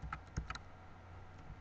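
Close, quiet typing on a computer keyboard, a short cluster of light key clicks at the start and then a few scattered taps over a faint background hum.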